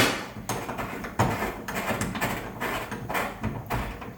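An adjustable wrench works a tap part loose, giving a run of short, close clunks and scraping knocks with a sharper knock near the one-second mark and no voices.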